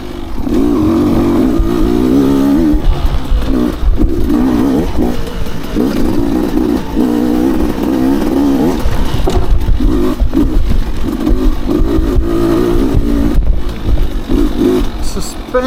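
A Beta RR dirt bike revs steadily and loud on a trail, its engine note dipping briefly with each gear shift and then pulling on, with no gaps.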